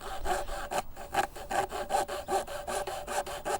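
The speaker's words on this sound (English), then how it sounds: "Once I've found out roughly where I want to cut it, I can start sawing halfway through." A hand saw cuts through wood in steady back-and-forth strokes, about nine rasping pulls in quick, even rhythm, close up.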